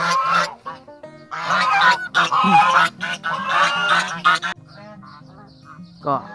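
Geese honk loudly and repeatedly at close range on a farm, harsh squawking bursts crowding together, then thinning out to a few scattered calls.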